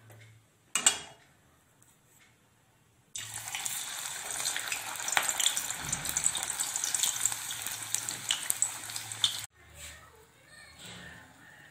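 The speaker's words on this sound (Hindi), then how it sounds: "ये तेल भी हमारा गर्म हो गया है। हम इसमें थोड़ा सा आटा डालकर देख लेते हैं।" A bit of methi puri dough dropped into hot oil to test it, setting off a loud, steady close sizzle of frying that lasts about six seconds before cutting off, with quiet kitchen sounds before and after.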